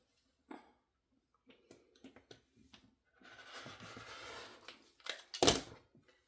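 Scissors snipping a V-shaped neck opening into caftan fabric, a string of short close cuts and rustles, then a longer stretch of shearing and a few sharper snips.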